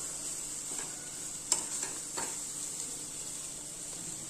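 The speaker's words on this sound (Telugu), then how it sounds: "ఇందులో వేసేసి బాగా ఇలా మొత్తం కలిపి పైన కింద ఒకసారి బాగా ఫ్రై చేసుకోవాలి" Cluster beans and egg frying in a pan, a constant faint sizzle with a few soft scrapes and taps as the mixture is stirred, close by and without talk.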